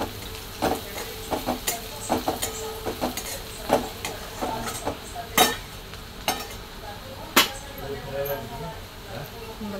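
Poha with peanuts being stirred in a pan: repeated light scrapes and clinks of a spoon against metal over a soft sizzle, steady and fairly close.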